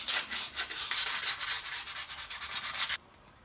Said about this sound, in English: We'll now give each piece a good sanding